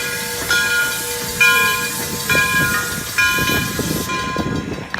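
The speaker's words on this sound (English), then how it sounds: "2475 was built by the Baldwin Locomotive Works for the Southern Pacific Railroad" Southern Pacific 2475, a Baldwin-built steam locomotive, hisses steadily and loudly, with a broad rush of escaping steam and faint whistle-like tones rising and fading throughout.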